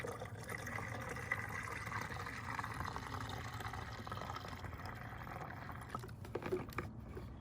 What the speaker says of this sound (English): Let me pour a little water.